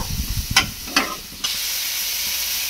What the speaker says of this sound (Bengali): দিয়ে 1 মিনিট মতো সমস্ত উপকরণগুলো একটু মিশিয়ে নেব